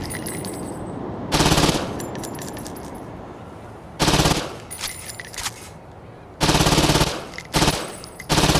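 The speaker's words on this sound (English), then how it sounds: "I can use my submachine guns to snipe from here." Submachine gun fire in the video game Saints Row 2: three loud bursts of rapid automatic shots separated by quieter gaps with game ambience.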